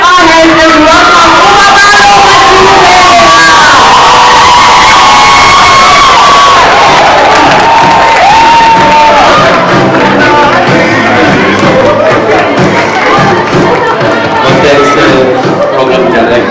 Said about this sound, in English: make some noise, clap our hands, and welcome